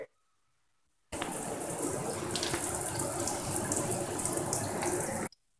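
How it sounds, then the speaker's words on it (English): A shower turns on and runs with a steady, close, hissing spray of water that continues for several seconds and then cuts off abruptly. "So first I'm gonna get in the shower and I'll see you when I am out of the shower."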